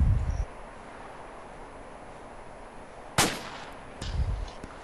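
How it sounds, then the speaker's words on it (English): Two sharp gunshots crack some distance away, a few seconds apart, each with a short ringing tail against a quiet background hiss; nobody speaks. "Shots fired."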